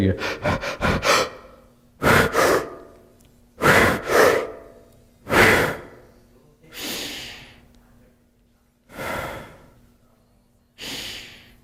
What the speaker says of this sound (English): I'm going from that panic breathing to sort of pause with the lungs full, then pause with the lungs empty